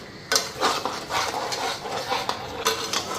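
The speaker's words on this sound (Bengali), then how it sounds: "মশলাটা ভালো করে ভেজে নিই।" Chilli powder spice paste is fried in a pan with a few scraping stirs and soft clinks over a light sizzle, close and fairly brief.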